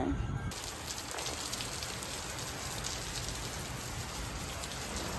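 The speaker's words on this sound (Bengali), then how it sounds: "হঠাৎ এত বৃষ্টি হবে আর এত ঝড় উঠবে ভাবতেই পারিনি" Heavy rain pours down steadily during a sudden storm at night, a dense, close and continuous hiss with no pauses, following a brief abrupt start.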